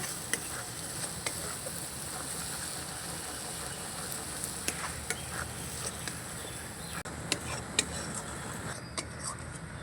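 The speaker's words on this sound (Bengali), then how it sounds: "লঙ্কাটাকে আমি একটু ভাজা ভাজা করে নেব" Red chili powder and turmeric fry in oil in a pan, giving a continuous close sizzle with scattered scraping clicks from stirring.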